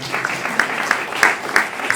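A small group at an awards night claps steadily, close and fairly loud, with no voices over it.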